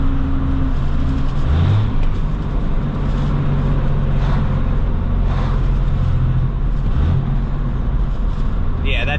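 A hotshot crew truck's engine drones steadily and loudly throughout, accelerating with a rising whoosh as the turbo spools, while people talk over it.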